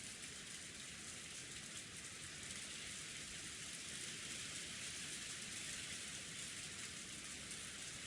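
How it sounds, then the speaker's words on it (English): Steady rain from the Umineko visual novel game, an even hiss of falling drops that runs unbroken and fairly quiet throughout, with no voices. "The sound of rain."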